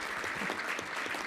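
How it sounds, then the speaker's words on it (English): Congratulatory applause from an audience at a local infrastructure investment event, steady dense clapping throughout without a break. "let's give him a congratulatory round of applause"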